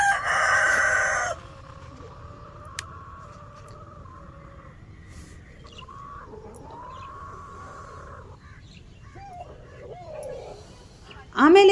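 Free-ranging chickens: a rooster crows loudly and nearby at the start, followed by quieter clucks and calls beneath a person talking.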